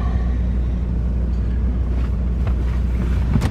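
A 2014 Chevrolet Cruze engine idles at about 900 rpm, a steady low rumble heard close up from inside the car, with some wind buffeting on the microphone.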